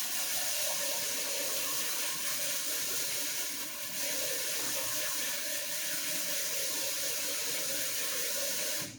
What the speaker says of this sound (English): So just make sure you rinse it well. You want the water to run clear.